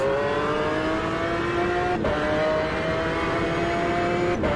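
A GT1 race car engine in a racing video game screams at high revs, pitch climbing steadily through the gears with two quick shift drops, loud and continuous.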